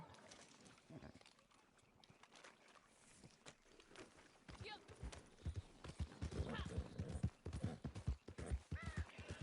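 Horse hooves clip-clopping in a video game, a rhythmic clatter that grows louder and busier in the second half, with someone talking over it.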